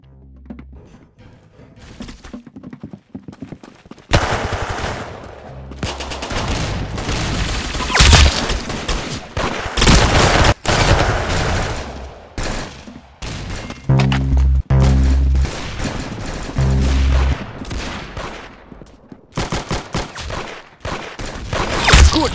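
Rapid gunfire from the Roblox shooter Arsenal crackles in loud bursts and volleys, with heavy thumps and booms between stretches of quieter game sound.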